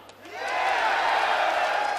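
A rock concert crowd at an outdoor show on Museumsplatz in Bonn roars and shouts together, a dense sustained wall of cheering that swells quickly after a brief lull and stays loud throughout.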